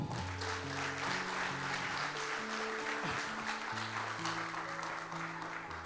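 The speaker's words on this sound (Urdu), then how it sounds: "اگر سب کا تو سب تالیاں بجا دیں" A congregation claps during a church sermon on repentance, a soft, steady patter of hands under sustained keyboard or organ chords that carry through the whole stretch.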